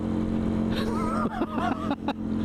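A car engine held around 6,000 rpm while driving on a 40 mph A-road heading into London: a steady, loud, droning hum with a wavering higher whine, dipping briefly twice, with no talking.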